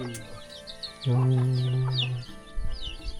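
Chickens in a rural Thai village where ducks and chickens are kept, clucking in short bursts with one long, loud drawn-out call in the middle, plus scattered bird chirps and faint background noise.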